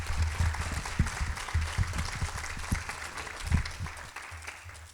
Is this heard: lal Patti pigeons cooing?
no